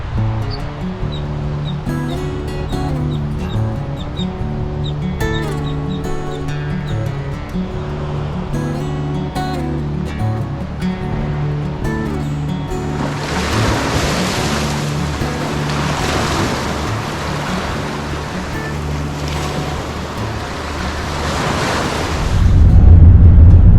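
Ocean surf rolls in at Flagler Beach, Florida, as a continuous wash of breaking waves with steady wind noise and a low rumble, growing louder and hissier toward the end.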